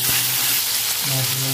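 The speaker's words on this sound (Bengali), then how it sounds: "মাছকে ভালো করে ভেজে নিতে তুলে নেবো" Rui fish coated in seasoning sizzling in lightly heated oil in a wok, a brief, steady, bright crackle of frying with a faint low hum underneath.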